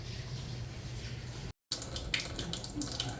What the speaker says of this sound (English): Just let the water run real slow.